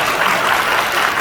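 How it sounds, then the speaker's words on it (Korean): Church congregation applauding during a Korean worship service, steady dense clapping throughout the short stretch with no talk over it. "박수 주세요."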